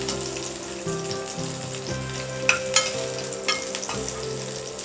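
Thick-sliced garlic cloves sauté in a pan for an egg curry with a continuous crackling sizzle, a low background hum and several sharp clattering knocks of a spoon midway, no talking.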